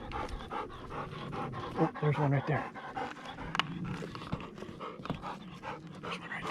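A hunting dog pants hard and fast up close after retrieving a dove, with short whimpers mixed into the rapid breaths while someone talks over it.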